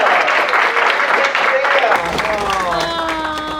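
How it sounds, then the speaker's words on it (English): An audience at the SF Zine Fest guest of honor round table breaks into loud, dense applause for a cartoonist, the clapping close and sustained before thinning as a voice begins speaking. "Let's give Raina a round of applause."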